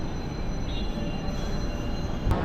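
A Chennai MRTS suburban train runs along the track, heard from on board as a continuous loud rumble of wheels and carriage noise, with a brief squeal near the end.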